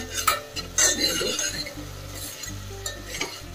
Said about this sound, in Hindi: ये मलका की दाल में तड़का लगा है